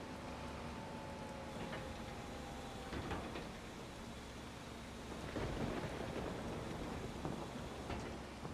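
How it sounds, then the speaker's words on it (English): Steady rain hiss with low rumbling thunder in the Farming Simulator 25 video game, continuous and fairly faint, with a few louder rolls. "Still raining, still thunder"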